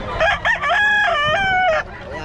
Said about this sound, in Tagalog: Daming manok eh.